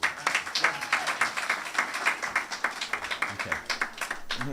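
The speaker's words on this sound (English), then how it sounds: "Give me another round of applause" An audience at an alumni day event claps steadily for several seconds, a dense patter of hands filling the room at moderate loudness, with no voices over it.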